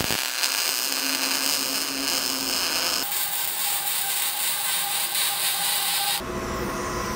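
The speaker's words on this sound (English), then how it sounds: "so let's weld something." Cyclone 200e welder welding, a steady, harsh crackling hiss that holds at an even level and shifts character twice, close up with no talking.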